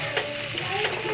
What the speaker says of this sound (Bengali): এবার জল দিয়ে দেবো পরিমাণ মতন।